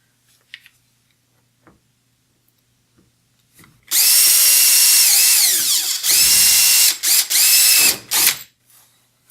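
A power drill bores a hole for a well nut through the plastic hull of a Hobie Pro Angler kayak: a loud whining run with pitch shifts and short stop-start bursts after a quiet stretch with a few faint clicks.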